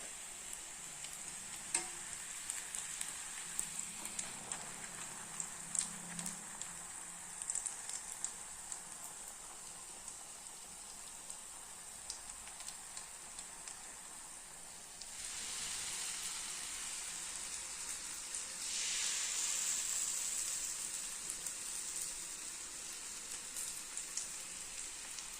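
Kaara achu murukku fries in hot oil, a steady hissing sizzle with bubbling bursts that swell louder for a stretch before easing back, no voices present.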